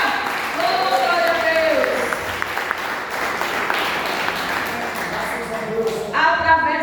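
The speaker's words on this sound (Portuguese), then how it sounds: "Palmas para Ele, que Ele merece" A church congregation bursts into sustained applause and cheering, a dense wash of clapping that holds steady for several seconds, with voices calling out over it.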